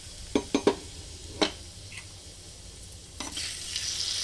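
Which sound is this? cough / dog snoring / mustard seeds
mustard seeds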